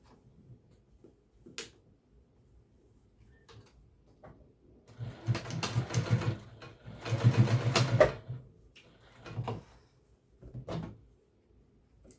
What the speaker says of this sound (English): So we're just basting these ties on.